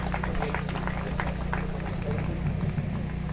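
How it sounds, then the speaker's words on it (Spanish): A church congregation in rural Cajamarca, Peru, applauds with steady, dense clapping under a low hum and faint murmuring voices, continuous and moderately loud. "Fuerte aplausos."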